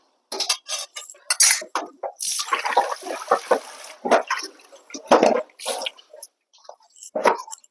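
In a very dirty home kitchen, a metal wok (kadai) clanks onto the stove amid bursts of clattering utensils and splashing water, with short irregular knocks separated by quiet gaps.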